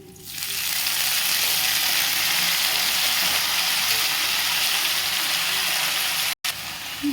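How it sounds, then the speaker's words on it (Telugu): Mint leaves frying in hot oil in a pan, a loud continuous sizzle that starts abruptly and holds steady, with a brief clatter near the end. "ఇలాగా పుదీనా బాగా ఫ్రై అయింది కదండి"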